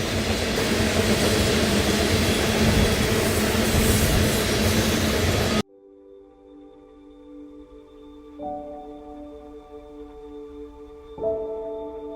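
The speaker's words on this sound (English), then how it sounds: "Every single car on this train right now is an Alberta oil car going down to Chicago." Loud, dense rumble of a long freight train of Alberta oil tank cars passing close for several seconds, then it cuts to quieter humming tones with soft shifts in pitch.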